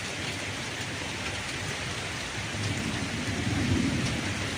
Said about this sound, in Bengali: ব্যস্ত শহরে তো গাইস আজকে বৃষ্টি নামতেছে